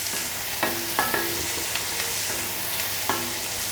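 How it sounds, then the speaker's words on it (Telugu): Onions and garlic sizzle steadily in a pan for paneer curry, with a spoon clinking and scraping against the metal at irregular intervals over the constant frying hiss. "ఇప్పుడు వేయించుకోవాలి, ఎర్రగడ్డ, తెల్లగడ్డ అవన్నీ వేయించుకోవాలి, బాగా వేగాలి."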